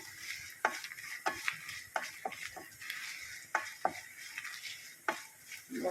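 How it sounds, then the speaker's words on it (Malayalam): Mustard seeds splutter in hot oil for a Kerala-style ginger curry (inji curry): a steady sizzle broken by sharp irregular pops and crackles, close and moderately loud, with no talking. "കടുകൊന്ന് പൊട്ടി വരണം"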